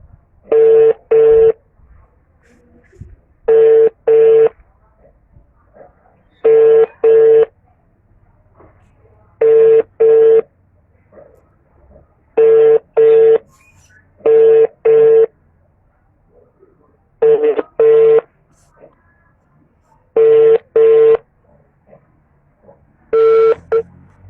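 An outgoing phone call ringing unanswered, paired double ring tones repeating in a steady cadence about every three seconds, clear and close through the handset, with faint low background noise between rings.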